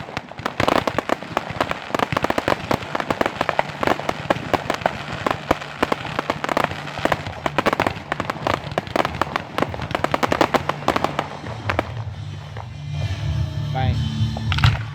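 Consumer fireworks bursting in Winfield, Kansas, a dense run of sharp cracks and bangs crackling almost continuously like firecracker strings, thinning toward the end into lower rumbling booms and fizzing, with faint voices in the background.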